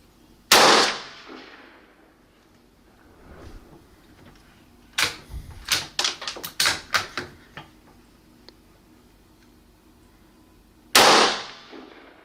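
A low caliber rifle fires at targets set at different distances: one sharp crack near the start and another near the end, with a quick run of lighter clicks and clatters between them, and no talk.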